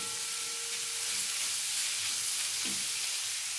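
Chicken and broccoli with a splash of vinegar sizzle steadily in a hot frying pan, a constant close hiss of oil and steam with no voices over it.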